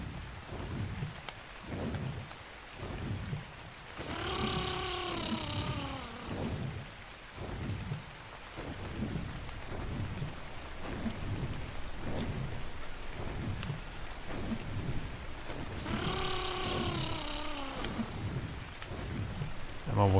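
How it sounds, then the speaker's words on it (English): A thunderstorm in the video game ARK: Survival Ascended, Scorched Earth map: steady heavy rain hisses throughout while deep thunder rumbles roll in and out, loud and continuous with no clear talk. "Okay, a thunderstorm now."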